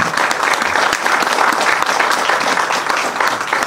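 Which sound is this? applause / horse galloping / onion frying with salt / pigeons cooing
applause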